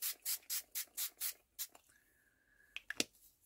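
Ink rubbed across a page of a botanical journal: six quick, even scrubbing strokes close up, then a pause, a short whine and a few faint clicks, all quiet and with no talking.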